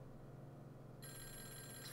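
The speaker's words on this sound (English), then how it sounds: "Ah, a phone's ringing." Telephone in the Clock Tower: The First Fear horror game starting to ring partway through, a bright electronic trill that cuts in abruptly over a low background hum.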